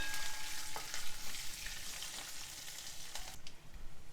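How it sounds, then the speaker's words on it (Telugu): Sliced green chillies frying in hot oil for lemon rice noodles, a continuous bright sizzle with occasional stirring clicks from the pan, close and fairly loud. "పచ్చిమిర్చి కొంచెం వేగనివ్వాలి"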